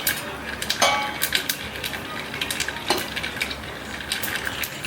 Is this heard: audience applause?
no